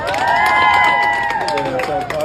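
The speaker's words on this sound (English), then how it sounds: "Can I get a round of applause?" A crowd at a Hooters restaurant applauding and cheering for a five-year-old's birthday, loud mixed clapping with voices calling out over it.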